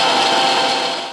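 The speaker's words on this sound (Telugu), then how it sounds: "మిక్సీ పట్టేద్దాం." A kitchen mixer grinder blends a drink, giving a loud, steady whirring roar for about a second before winding down.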